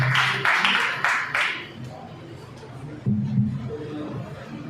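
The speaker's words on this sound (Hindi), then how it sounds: "जोरदार तालियों से इनका स्वागत किया जाए।" An audience at an Ambedkar Jayanti celebration in a Bal Bhavan hall gives a short burst of clapping to welcome a speaker, quickly fading into a low crowd murmur with scattered voices.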